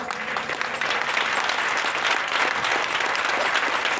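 A church congregation applauds and cheers for Jesus during an evening Friday preaching service, a steady, loud wash of clapping from a large crowd lasting the whole few seconds.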